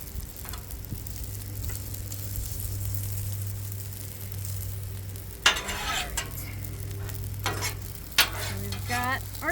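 Beef fries on a Blackstone griddle with a soft, constant sizzle, interrupted by several loud scraping strokes of a spatula against the flat-top.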